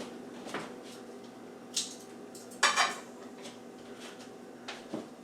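Breakfast pie ingredients are stirred in a bowl with a utensil, making quiet, scattered clinks and scrapes against the bowl, with a brighter metallic clatter near the middle.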